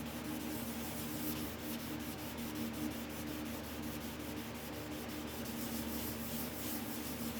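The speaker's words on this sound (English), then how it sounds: "Just little tiny bit of pressure and just let the sandpaper do its work." Sandpaper rubbed by hand over the wooden body of a DIY guitar kit, a steady close scratchy hiss of light back-and-forth strokes with faint rhythmic pulses, no voices.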